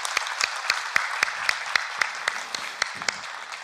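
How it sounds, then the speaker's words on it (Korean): A small congregation claps during a church worship service, with sparse, evenly spaced hand claps that ring out clearly in a fairly quiet room for a few seconds. "우리 박수로 감사의 마음 전합시다."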